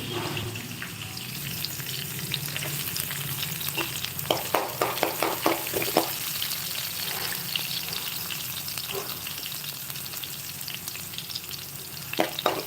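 Green chillies and finely chopped onions sizzle steadily in hot oil for a Telugu tomato bath, with a scatter of sharp spatula clinks and scrapes while being stirred; no one speaks.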